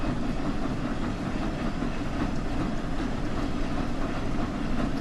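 The Flying Scotsman steam locomotive in the Train Sim World game runs at speed with the reverser eased back, giving a dense, steady rumbling roar with faint rhythmic rail clatter, close and continuous with no talk.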